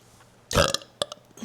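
A single short, loud belch erupts, followed by a few faint clicks and small mouth sounds in an otherwise quiet space.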